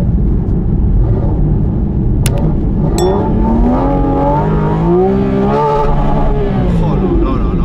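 A Porsche GT4 RS running on e-fuel revs up to 9000 rpm, its engine note climbing in loud, sweeping rises and falls with sharp blips, close and continuous, while a voice talks over it.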